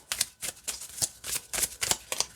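A compact travel-size deck of positive-affirmation playing cards is shuffled up close, giving a quick run of crisp papery riffling bursts in a steady rhythm.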